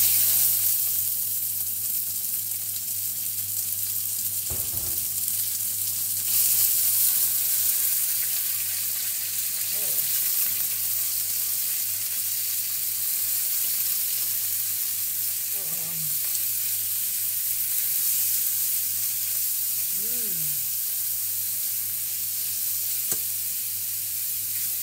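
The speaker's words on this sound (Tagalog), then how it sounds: "Then, ilagay na natin yung beef." Beef for stroganoff sizzles and fries steadily in a hot pan, a continuous broadband crackle lasting throughout, with a few faint clinks and scrapes of utensils against the pan and no talking.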